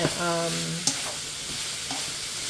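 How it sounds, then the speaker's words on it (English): Chicken stir-fries in a pan with a steady sizzle. A short tonal scrape or squeak opens it, and a couple of quick utensil knocks follow. No one speaks. "you continue to stir fry for about, I don't know, a minute"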